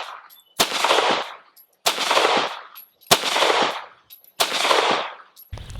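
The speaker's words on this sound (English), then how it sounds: "I'm gonna shoot 5 rounds with the head box" Sig P365XL pistol fired at 5 yards, sharp loud shots spaced about a second apart, each with a long decaying ring, four clear reports with a fifth starting at the end.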